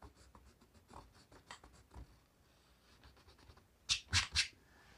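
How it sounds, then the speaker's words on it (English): Pencil lines on a cartoon drawing are erased with light, rapid scratchy rubbing strokes, faint and close, ending in three louder brisk swipes. "I'm gonna go ahead and erase lines that I don't need"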